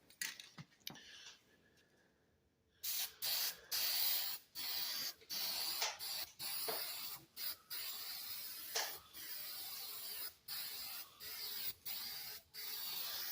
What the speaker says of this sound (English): So we're gonna actually hit it with another coat here. This stuff looks like glitter when it's being sprayed on